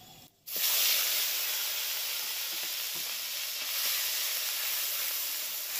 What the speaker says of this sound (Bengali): পেঁয়াজটা দেখো একটুখানি ভেজে নিয়েছি